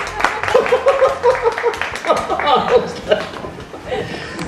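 A bookstore audience in Hollywood breaks into scattered, close applause mixed with chuckles and laughter, while people talk over the clapping.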